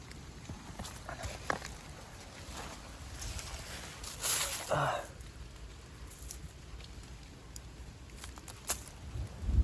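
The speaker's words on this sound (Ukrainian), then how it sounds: "Ось такий град сипанув у лісі." Hail pelts down through a Carpathian forest with rain, a steady crackling patter of small impacts, with a few louder knocks standing out against the continuous wash.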